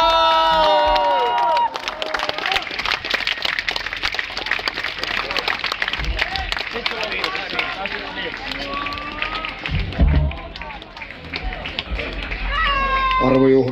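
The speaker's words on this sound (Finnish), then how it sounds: "Aplodia hassulle kuperkeikkamiehelle!" A festival audience cheers and claps for a somersault performer at Juva Rokkaa 2013, a loud crowd roar with an announcer talking over it and music blaring at the close.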